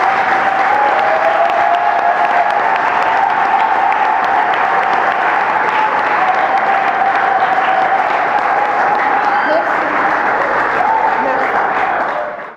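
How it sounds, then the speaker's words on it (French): Warm applause from an audience of students, a steady dense wash of clapping lasting the full twelve seconds with a sustained tone and faint voices running underneath. "vous féliciter et de vous remercier une fois de plus par des applaudissements chaleureux"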